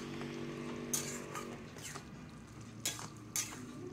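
A vegetable curry simmering in a pan over high flame, with a soft continuous bubbling and sizzling bed punctuated by a few sharp utensil clinks and scrapes.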